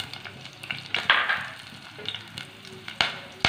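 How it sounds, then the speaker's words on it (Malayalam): Two cut green chillies hitting hot oil for a green gram curry, a soft crackling sizzle with scattered pops and light stirring clicks close by. "ഇപ്പോ എണ്ണ അത്യാവശ്യം നന്നായിട്ട് ചൂടായിട്ടുണ്ട് അതിലേക്ക് നമുക്ക് ഒരു 2 പച്ചമുളക് ഇതേപോലെ കട്ട് ചെയ്തത് ചേർക്കാം"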